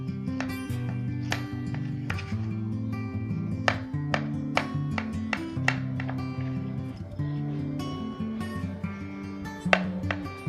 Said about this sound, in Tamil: இதை கட் பண்ணி காமிக்கிறேன்.